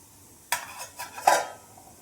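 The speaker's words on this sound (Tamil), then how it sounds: "இது மேலே ஒரு பிளேட் போட்டுக்கிறேங்க" A metal plate set down on top of a covered pot of colostrum milk in a village kitchen gives a few close, sharp metallic clatters and clinks over about a second, then falls quiet.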